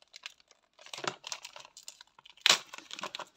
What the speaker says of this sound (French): Là, je suis obligée de déchirer.